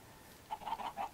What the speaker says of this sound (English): there's a bunch of chickens down there.